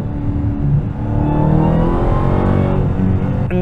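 Interior cabin sound of a 2023 Dodge Challenger SRT Black Ghost under throttle, a loud continuous engine drone with a rising supercharger whine layered over deep rumble, heard from inside the car.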